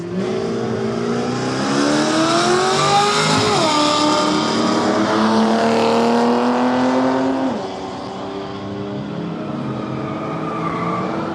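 Ford Falcon ute engine running at a drag challenge road trip event, a smooth droning note that climbs and falls with revs, fairly near and continuous, then settles to a lower idle-like hum toward the end.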